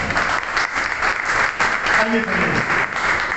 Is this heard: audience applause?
yes